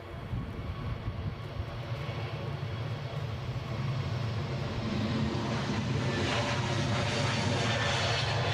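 A plane's engine growls overhead near Edinburgh airport, a loud continuous roar that builds steadily and brightens as the aircraft passes close, with no talk over it.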